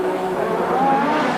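A 1986 Formula 1 car at the Australian Grand Prix qualifying session brakes hard and drops through its gears, a high, strained engine whine shifting pitch over a brief, steady roar.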